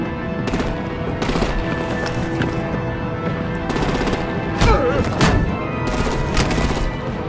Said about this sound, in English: Bring out the artillery and disable their vehicles!